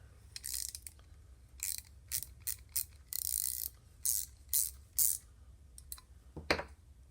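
Restored Corona garden pruners with a nylon-tensioned lock nut are worked open and shut, giving a series of short, sharp metallic clicks and snips in irregular bursts, close up and alone.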